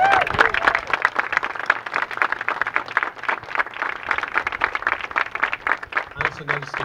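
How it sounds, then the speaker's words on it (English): An audience at a women's soccer club event applauds, a dense and steady wash of clapping that stays at an even level, with a voice heard faintly near the end. "Give them a round of applause."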